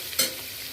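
Onion, ginger and garlic fry in a pan for chana masala, giving a steady soft sizzle with a brief louder burst of stirring near the start.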